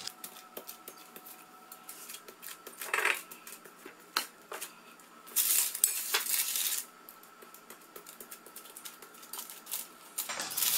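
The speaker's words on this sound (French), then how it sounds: "Et avec une fourchette appuyée tout le long pour souder." Fork tines pressing and tapping along the edge of vegan almond galette des rois pastry to seal it, quiet scattered clicks and scrapes with brief brighter bursts of crinkly rustling.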